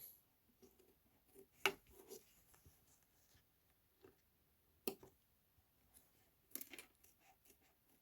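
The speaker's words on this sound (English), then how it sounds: "I'm just going to go ahead and trim these up" Scissors snip through small leather pieces for a sewing project, a few quiet, scattered cuts with soft clicks and pauses between them, faint and close.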